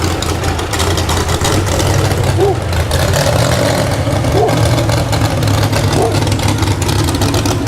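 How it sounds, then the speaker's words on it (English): A six-cylinder tractor engine running on straight pipes with no muffler idles and rumbles loudly and continuously, a deep, rough exhaust drone that never lets up. "Straight pipes, give you an idea just how an engine without a muffler would sound."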